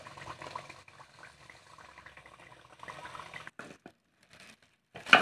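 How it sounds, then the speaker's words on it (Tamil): Roll crackers frying in oil over slow heat, giving a steady bubbling sizzle that runs throughout and swells into a louder burst at the end. "ஸ்லோ ஹீட்டில் வச்சு நம்ம ஃப்ரை பண்ணால் தான் நம்ம அந்த கிறிஸ்பி கிடைக்கும்"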